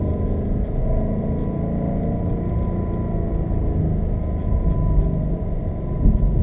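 A Ford Mustang GT's engine rumbles steadily on a track, a deep, constant drone heard close from inside the car with no talking.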